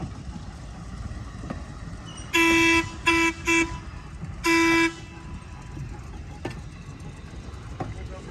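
An electric streetcar rolls by in a museum's electric equipment parade, sounding a loud horn in four bursts over low rumbling ambience.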